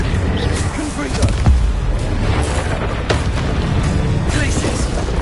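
A booming blast from the Confringo fire spell in Hogwarts Legacy, with heavy low impacts and crashing noise over busy combat sounds, loud and near, while a voice speaks over it.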